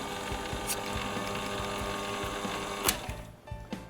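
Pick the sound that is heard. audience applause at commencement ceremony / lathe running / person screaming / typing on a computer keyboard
lathe running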